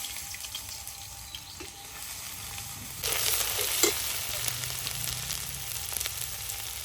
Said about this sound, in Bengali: এবারে কড়াইতে দিয়ে দেব আদা রসুন বাটা।